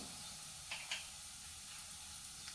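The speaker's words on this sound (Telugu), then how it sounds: "ఆయిల్ అయితే ఎక్కింది ఫ్రెండ్స్ ఇంకా పోపు దినుసులు అయితే వేసుకుందాం" Cumin and mustard seeds temper in hot oil as the first step of a tomato moong dal curry. A quiet, steady sizzle carries a couple of brief crackling pops, close by, with no talking.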